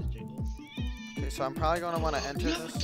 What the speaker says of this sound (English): that was my cat screaming in the background